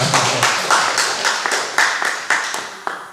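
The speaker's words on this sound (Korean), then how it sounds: "우리 박수로 환영합시다." A church congregation claps in welcome during a Sunday afternoon service, a ragged patter of hand claps with sharper accents recurring roughly every half second over about three seconds.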